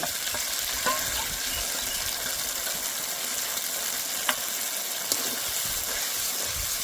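Masala being fried and stirred in a pan with gobindobhog rice, cashews and poppy paste, a steady close sizzle with occasional spoon scrapes and clinks, no voices.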